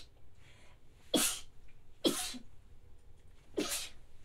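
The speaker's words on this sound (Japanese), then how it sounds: "待ってくしゃみです" Three sharp sneezes burst out close to the microphone, spaced unevenly over a few seconds against a quiet background.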